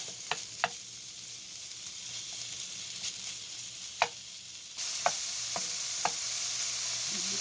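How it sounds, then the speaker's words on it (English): Bacon sizzles in a skillet on the stove with a constant crackling hiss, broken by occasional sharp taps and scrapes of a utensil stirring it, close and without talk. "let's get our bacon in, and we're just going to get this cooking"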